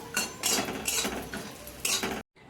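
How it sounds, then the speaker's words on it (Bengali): Bori lentil dumplings fry in hot oil with a steady, close crackle, broken by a few louder bursts of stirring and utensil scraping, and it stops abruptly near the end. "তেল দিয়ে বড়িটা একটু ভালো করে ভেজে নেব"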